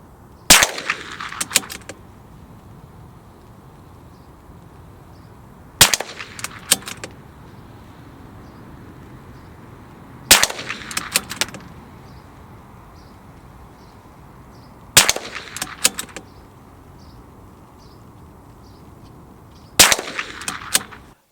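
CZ 457 MDT rimfire rifle fitted with a moderator fires five suppressed shots at even intervals of about five seconds, each a sharp close crack followed by a brief metallic clatter and rattle.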